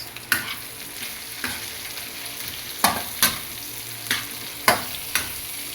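Okra and eggplant sautéing in a pan, a steady sizzle punctuated by about nine sharp scrapes and clacks of a spatula stirring the vegetables, close and clear.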